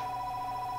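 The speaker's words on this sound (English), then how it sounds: "That's a phone." A telephone rings with a steady electronic tone, an unbroken, fairly faint ring that holds through the whole moment with no voices over it.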